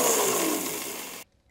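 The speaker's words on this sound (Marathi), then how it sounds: "आता आहे ना, तांदूळ मिक्सरमध्ये डुरकन फिरवून घ्यायचे." Washed rice is pulsed briefly in a kitchen mixer grinder for creamy rice kheer: a loud close whirring roar whose pitch slowly sinks, then cuts off abruptly into near silence with a small knock.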